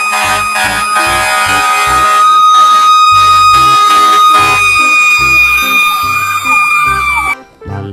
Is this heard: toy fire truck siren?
yes